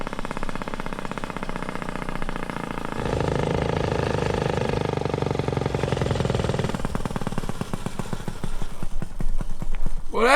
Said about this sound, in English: I could actually feel the engine pulling the bike up to speed, until it was going as fast as it could.